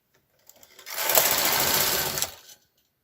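A knitting machine carriage sweeps across a row in one loud whirring, rattling pass of about two seconds, close up and alone, rising quickly and cutting off at the end.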